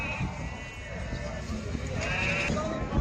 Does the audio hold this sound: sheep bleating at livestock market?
yes